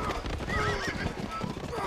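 A horse in a video game whinnies loudly with hoof clip-clops mixed in, bright and close over busy game sound.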